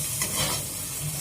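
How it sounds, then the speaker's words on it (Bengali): Poppy seed paste stirred in a hot pan, a short burst of soft sizzling with a light scraping stir, close and steady. "পোস্তটা নাড়া হয়ে গেলে জল ঢেলে দেবো"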